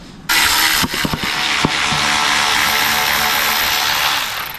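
A Milwaukee power tool loosening a power steering bolt on a first-generation Honda CR-V, a loud continuous whirring buzz close by with a few ratcheting clicks near the start.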